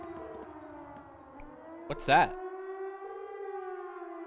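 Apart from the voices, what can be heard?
siren sounding from a fort in the video game Trails of Cold Steel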